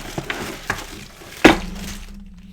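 Plastic tabletop miniatures spill onto a table in a few light clicks, then a loud clattering thump as a large piece lands, followed by a steady low hum.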